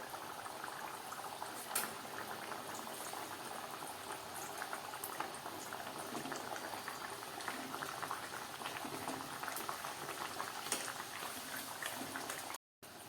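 Green pea puris deep fry in hot oil over a low to medium flame, giving a continuous dense bubbling sizzle that holds steady throughout, with a brief dropout near the end.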